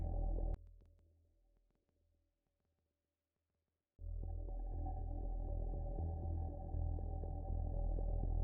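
An Arturia MS-20 synthesizer plays a low note that decays into near silence before a second sustained, buzzy low tone starts abruptly and holds steadily.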